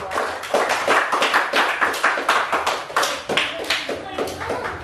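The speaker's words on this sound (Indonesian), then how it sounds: "Tepuk tangan dulu untuk kelompok" Students in a classroom clap for a group, a loose, fairly close run of individual hand claps with a clear rhythm that tapers toward the end.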